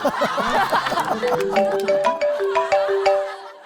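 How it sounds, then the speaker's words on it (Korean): A mobile phone rings with an incoming call during a televised trot music show. The melodic electronic ringtone repeats in steady phrases after brief voices at the start. "전화 왔어"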